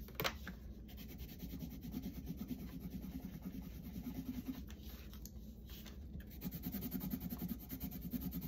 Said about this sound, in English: That's because it is a harder pencil, harder level. The color is a harder color. And it's just scratchier.